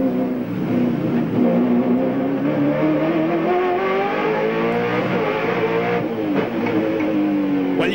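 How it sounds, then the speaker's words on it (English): Ford Falcon V8 touring car racing on a Wellington street circuit, a loud continuous engine roar with rising and falling revs that hold fairly steady, no speech. "racing around the streets of Wellington with a great Aussie V8"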